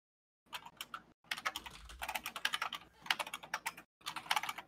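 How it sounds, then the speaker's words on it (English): Rapid clattering keystrokes on a computer keyboard as someone types into Rocket League chat, coming in close, uneven bursts separated by brief pauses, with no talking. "we're typing into the Rocket League chat"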